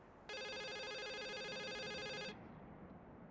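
A telephone rings in the horror video game The Suicide of Rachel Foster, one loud sustained electronic ring lasting about two seconds over a quiet room ambience, then stopping.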